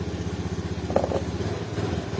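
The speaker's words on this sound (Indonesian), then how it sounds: "Setelah di reset, dicoba hidupan mesin." A motorcycle engine idles steadily after its MIL light reset, with a rapid, even putter and a little mechanical clatter, close and continuous.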